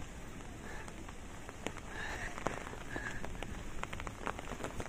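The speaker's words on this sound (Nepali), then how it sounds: "पुरै पानी पर्यो" Heavy rain falls on a mountain trail in Nepal's Bhotkhola area, a constant close patter and hiss of drops with scattered louder splats on nearby surfaces and no talk.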